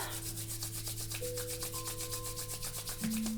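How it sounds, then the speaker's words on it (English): Hands rubbing briskly together during a chair yoga session, a steady close swishing friction over a low constant hum, with no talking. "give the hands a rub"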